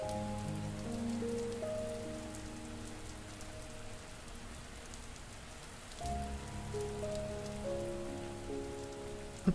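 Rain falls in a soft, steady patter beneath sustained low musical tones that fade midway and return, the whole mix quiet and calm.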